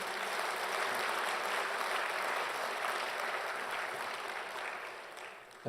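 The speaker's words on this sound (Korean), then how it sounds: "우리 좋은 은혜를 주신 우리 주님께 영광의 박수 한번 돌리겠습니다" A Korean church congregation gives a full round of applause during a Good Friday service, a dense, even wash of many hands clapping that gradually thins and softens toward the end.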